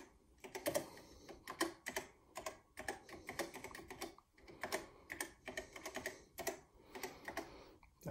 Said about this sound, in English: you could run a simple test by booting any disk and typing a basic program